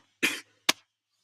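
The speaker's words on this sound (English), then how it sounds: "This cough is starting to get on my nerves." Two short, dry coughs, the first slightly longer, followed by silence.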